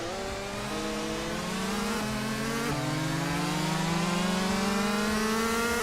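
Race car engines in a racing video game, including a 2012 supercar, drone and rise steadily in pitch as several cars accelerate together, loud and continuous with no break.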